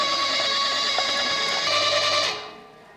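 A meat mincer churns sausage mince in a steady, loud whirring drone with a high mechanical whine, running close for about two seconds before cutting off and fading to quiet.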